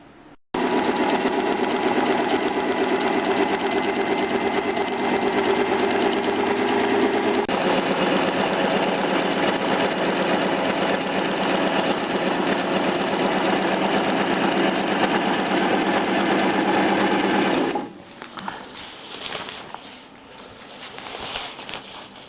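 A sewing machine runs loud and steady for about seventeen seconds, stitching a grosgrain ribbon along the length of a hammock, then stops abruptly, leaving quieter handling noise.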